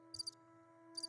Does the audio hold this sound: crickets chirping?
yes